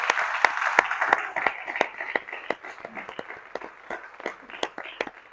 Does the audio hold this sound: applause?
yes